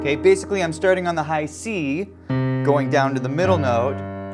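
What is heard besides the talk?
No distinct noise like a dog, phone or traffic.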